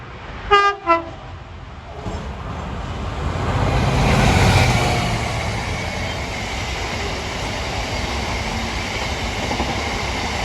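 A train passes Pyebridge Ladder Junction south of Alfreton in the central UK, opening with two short horn blasts, then a loud, swelling rumble of wagons that stays steady to the end.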